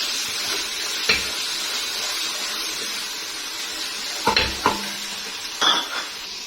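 Ginger-garlic paste frying in a pot for a beef curry, a soft continuous sizzle broken by a few sharp clinks and scrapes of a spoon against the metal, close by with nobody speaking.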